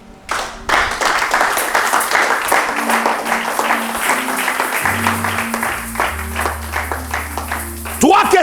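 A church congregation applauds in sustained, dense clapping over several seconds, with voices and singing mixed in beneath the claps and a brief tonal sweep at the end.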